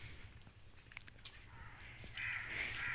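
A crow caws faintly in the distance over steady outdoor background noise in Himachal Pradesh.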